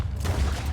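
A gunshot headshot in Red Dead Redemption 2, a single short, heavy, low-pitched blast lasting under a second with no voices.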